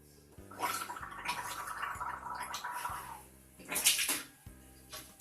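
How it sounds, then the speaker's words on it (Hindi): Someone gargles lukewarm water up close, a bubbling, rattling throat sound held for a few seconds, then a shorter harsher burst of gargling near the end over a faint low hum. "तो अब मैं गार्गल करके आपको बताऊँ किस तरह से गार्गल करना"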